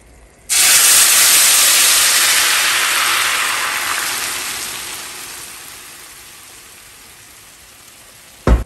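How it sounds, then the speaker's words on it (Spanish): Tomatoes boil in a pot on a kitchen stove with a loud, sudden hissing, bubbling rush that slowly fades to a softer simmer over several seconds, ending with a brief clunk. "Ya tenemos hirviendo lo que son los jitomates."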